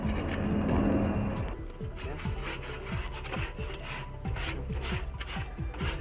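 Half an onion is rubbed back and forth over a greasy grill grate to clean it, making about a dozen rhythmic rasping scrapes close by after an opening stretch of rougher scrubbing.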